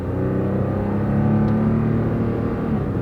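A truck engine revs hard and high in second gear before the upshift on an uphill climb, a loud, sustained, close drone that holds steady throughout.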